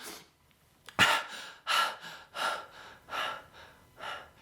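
A person surfaces after a long time underwater in a pool and takes a sharp first gasp of air. Several heavy, rhythmic breaths follow, close and loud, with no talking.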